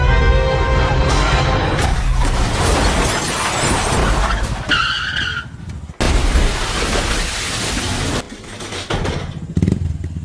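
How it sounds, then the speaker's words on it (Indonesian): In a film action scene, a car suddenly flips over amid loud engine roar and tyre skids, then a heavy crash with shattering debris, the impacts coming in abrupt bursts. "mobil mereka tiba-tiba salto"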